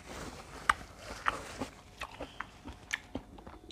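Close, crunchy bites and chewing of a spicy Thai cucumber salad with squid tentacles, irregular wet crunches repeating at an uneven pace, some sharper than others.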